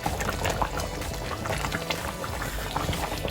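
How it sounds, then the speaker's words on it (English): A simmering mutton curry bubbles as two cups of water are poured into the pot, giving a close, continuous gurgle and sputter of liquid with no talk over it. "I'm gonna add the remaining, my 2 cups of water."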